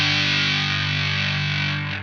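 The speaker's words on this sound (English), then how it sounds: "A lot of that distorted sound comes from a Big Muff" A thick, fuzzy electric guitar chord through a Big Muff fuzz pedal rings out loudly and sustains, slowly fading.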